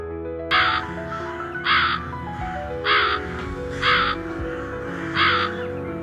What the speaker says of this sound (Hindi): उन्हें गुफा के अंदर से काले कौवे की आवाज आती है।